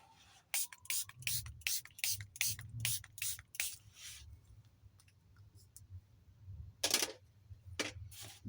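A quick series of sharp spritzing bursts from a spray bottle, about a dozen in a row, then a pause and a few more scattered sprays, fairly close.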